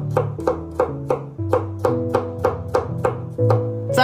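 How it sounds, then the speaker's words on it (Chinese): A kitchen knife slices garlic cloves on a cutting board in a run of about ten sharp, evenly spaced chops, heard close up with tonal music underneath. "给它切成蒜片。"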